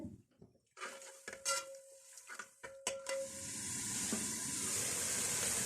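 Masala fries in a pan with half a cup of chicken stock. A few sharp utensil clinks come first, then a steady, close hiss of sizzling builds and holds.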